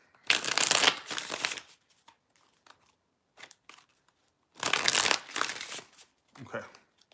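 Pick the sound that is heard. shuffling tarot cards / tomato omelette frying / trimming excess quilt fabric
shuffling tarot cards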